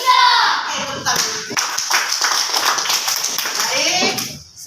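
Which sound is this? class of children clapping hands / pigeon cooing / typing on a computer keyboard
class of children clapping hands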